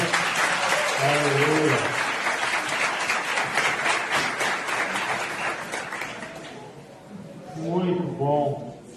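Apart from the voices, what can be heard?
church congregation applauding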